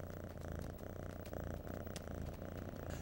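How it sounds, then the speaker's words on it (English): Close, continuous purring from cats, a soft rhythmic rumble that pulses steadily without pause. "They're purring, Zoboo."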